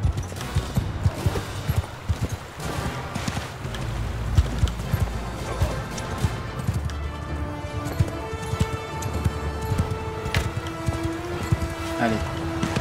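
Horses gallop in the medieval battle game Mount & Blade II Bannerlord, their hooves pounding in a rapid irregular clatter under steady battle noise and a voice talking over it.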